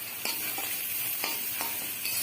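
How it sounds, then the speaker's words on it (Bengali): Chopped onions frying in a pan with salt, a steady sizzle broken by several sharp scraping strokes of a spoon stirring at regular intervals, close and moderately loud, no voices. "পেঁয়াজ কুচিটা দিয়ে নাড়াচাড়া করে নেব"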